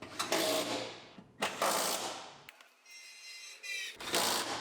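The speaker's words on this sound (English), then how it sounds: "Tighten down our bolts in the back." Bolts are tightened with a ratchet on a Lexus IS250 AWD during a rebuild, heard as several short bursts of quick clicking separated by pauses, fairly quiet and close.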